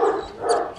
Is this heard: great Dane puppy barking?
yes